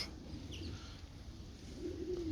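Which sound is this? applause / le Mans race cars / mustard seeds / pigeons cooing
pigeons cooing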